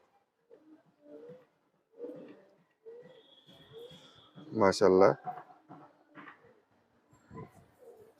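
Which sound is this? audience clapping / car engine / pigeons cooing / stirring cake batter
pigeons cooing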